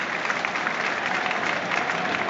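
Steady applause and crowd noise from the home fans at a Middlesbrough football match against Tottenham Hotspur, a continuous wash of clapping filling the stadium with no break.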